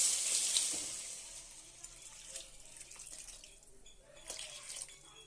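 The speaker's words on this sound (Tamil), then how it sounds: "தேவையான அளவுக்கு தண்ணி ஊற்றிக்கிறேன்." Water poured into a cooking pot of sautéed onions, coriander and curry leaves for idli sambar, a splashing, hissing pour loudest at the start and fading to a softer trickle with faint kitchen clatter.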